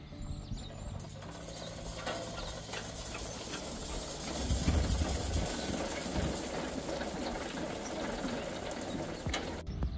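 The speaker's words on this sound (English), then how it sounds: "prime your metering units by turning the drive wheel in the forward position" The metering units of a Piket disc seeder whir and tick steadily as the drive wheel is turned forward, a continuous close mechanical rattle with no voices.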